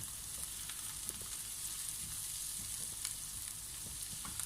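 Chopped onion and garlic sizzle in hot oil in a pan, a steady, even frying hiss that runs the whole time with a few faint stirring clicks and no talking.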